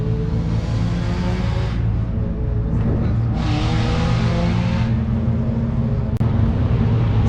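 A 2021 McLaren 600LT Spider engine revs hard and loud, rising and falling as it accelerates close by, with a steady roar throughout.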